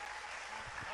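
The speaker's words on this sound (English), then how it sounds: "round of applause" An audience at a lower school chapel service gives a short burst of applause to welcome a pastor, faint and brief with some voices under it.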